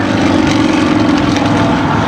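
The nine-cylinder radial engine of a Russian-built aerobatic display aircraft at an air show gives a loud, continuous throaty rumble with a rapid pulsing beat, heard close by.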